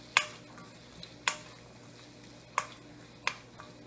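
A utensil stirs celery into a rice dish in a pan, giving four sharp, evenly spaced clinks against the pan over a faint, quiet background.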